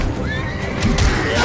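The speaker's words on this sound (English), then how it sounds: "I really should be taming this horse," Horse neighing in the Bless Online video game, a rising whinny rendered as in-game audio over a steady music and ambience bed, with a louder burst near the end.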